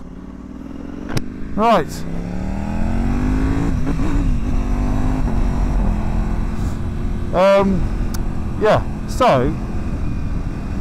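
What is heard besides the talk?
Ducati Panigale V4S Tricolore motorcycle engine while riding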